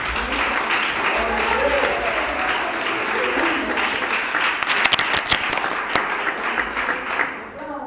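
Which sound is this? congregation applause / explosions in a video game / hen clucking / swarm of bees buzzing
congregation applause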